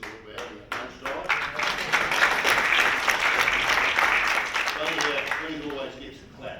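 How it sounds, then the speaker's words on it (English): Seminar audience bursts into applause, starting with a few scattered claps that build into a full, dense round of clapping, then thin out again near the end, with some voices faintly audible underneath. "Food always gets a clap"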